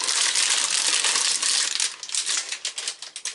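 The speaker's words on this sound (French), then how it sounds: "Le plastique qui fait un petit peu plus de bruit celui-là." Plastic wrapping crinkles steadily as a box is opened, a close, bright rustle that starts continuous and then breaks into separate crackling bursts, with no voices.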